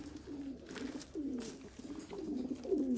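Racing pigeons in a loft give repeated low cooing phrases, three or four rolling calls close by, soft and unaccompanied by voices.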